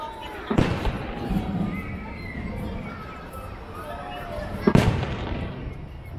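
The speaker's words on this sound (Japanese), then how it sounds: "今は変わって今度はベニシー、キラキラ光る花火でございます。" Two loud firework blasts from a fireworks display at Nagashima Onsen, Japan, burst several seconds apart, each trailing into crackling, over a constant murmur of a distant crowd.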